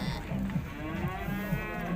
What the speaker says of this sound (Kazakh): Бір келкі полторашка бұзаулар